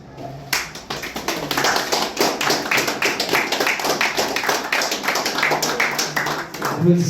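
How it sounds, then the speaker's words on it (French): Audience clapping at a philosophers' celebration event, starting abruptly after a quiet moment and continuing as rhythmic, fairly close hand claps for several seconds, with a voice briefly heard near the end. "Applaudissements encore une fois."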